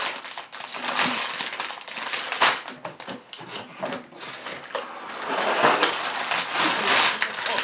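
Small plastic bags of Lego Creator 31142 pieces handled close up, giving steady crinkling and rustling with light clicks and rattles of loose parts, varying in intensity throughout.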